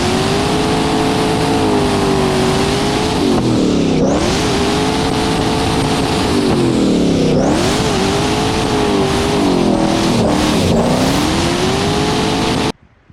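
Twin turbo 2000 C5 Corvette fixed roof coupe built as a drift car, engine roaring loud and close, revving up and down in repeated sweeps, then cutting off abruptly.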